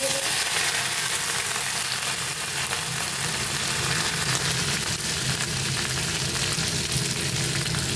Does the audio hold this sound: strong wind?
no